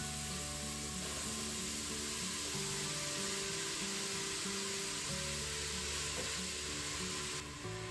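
Previously frozen lamb mince fries in a Crockpot Express, a constant close sizzle and hiss with a steady hum from the cooker underneath, lasting unbroken throughout.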